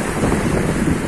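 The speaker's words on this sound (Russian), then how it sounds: "Вот, смотрите, какое сегодня морешко." Sea waves and wind on the Crimean coast make a loud, steady roar of surf with wind buffeting the microphone and no talk.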